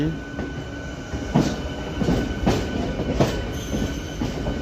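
A freight train rolls past near the Ghaziabad rail bridge at the railway station, with rumbling wagons, rhythmic wheel clacks and squeals rising at intervals, close and loud.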